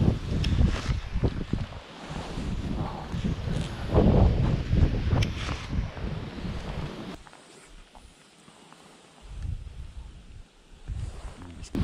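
Wind gusts buffet the microphone beside the water during bass fishing on a rock-lined shore, a loud continuous rumbling roar that swells and eases, dropping to a quieter hiss partway through.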